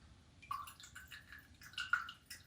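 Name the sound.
pouring olive oil into a container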